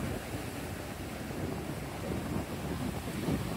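Steady wind rushes across the microphone in a continuous low roar in Hua Hin old town, with no speech and no distinct breaks.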